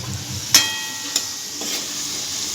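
Potatoes fry in hot oil with a steady close sizzling hiss, broken by a couple of sharp spatters or clinks.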